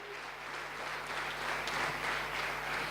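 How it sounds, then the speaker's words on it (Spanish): A church congregation applauds during a Spanish-language worship service, a sustained wash of many hands clapping at a moderate distance, steady and even for the whole stretch. "Dale un fuerte aplauso al Rey, iglesia."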